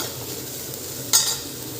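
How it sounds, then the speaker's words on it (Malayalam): Prawns sizzle steadily in a pan over full heat, with a brief louder crackle partway through, close by. "ചെമ്മീൻ നന്നായി സ്റ്റവ് നല്ല ഫുള്ളിലിട്ടിട്ട് ഒന്ന് വറുത്തെടുക്കാം"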